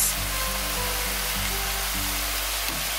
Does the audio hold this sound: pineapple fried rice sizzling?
yes